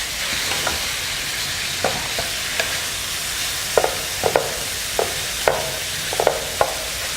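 Meat browning in an electric fry pan, giving a steady soft sizzle with scattered scraping clicks from a stirring tool, close and fairly quiet with no talk.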